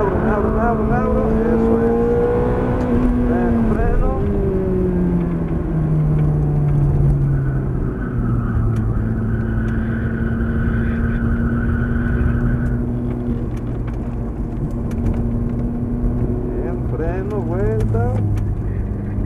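An exotic sports car rented for driving in Cancún, Mexico, its engine droning loudly and steadily with rising pitch sweeps as it accelerates hard, a voice talking over it in places.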